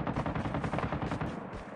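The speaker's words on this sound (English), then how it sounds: "I'm getting sniped." Gunfire from a sniper in a battle royale video game, dense rapid cracks and shots packed together at close, steady loudness with no talk.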